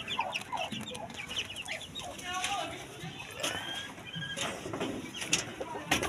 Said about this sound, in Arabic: الديك اهو.